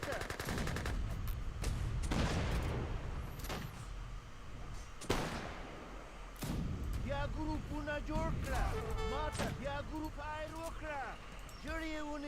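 Gatling camels firing in Age of Empires 3, with rapid crackling bursts of gunfire repeating through a battle, joined later by a voice speaking over the shooting.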